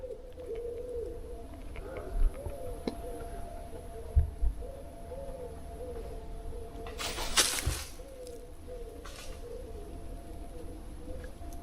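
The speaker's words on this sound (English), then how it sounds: "Just birds, mate, just birds." Pigeons coo in soft, repeated low calls outdoors, with a brief higher chirp from another bird and a few dull thumps.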